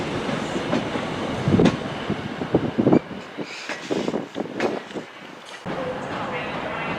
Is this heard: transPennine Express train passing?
yes